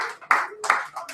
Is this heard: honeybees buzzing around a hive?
no